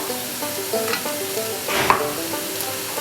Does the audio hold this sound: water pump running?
no